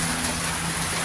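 Heavy rain pours down during a storm, a dense, steady broadband hiss with no breaks, alone and close.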